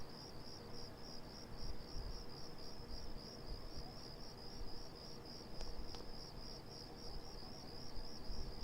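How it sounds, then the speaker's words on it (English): Cicadas in the video game Persona 4 drone in a continuous high, pulsing buzz, faint and steady, with no talk over it. "These cicadas are driving me nuts."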